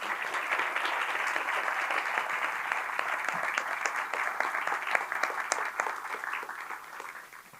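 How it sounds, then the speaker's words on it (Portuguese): An audience applauds two authors at a book fair talk: steady, dense clapping from a crowd that holds for several seconds, then gradually thins and fades toward the end. "Eu pediria uma salva de palmas para eles."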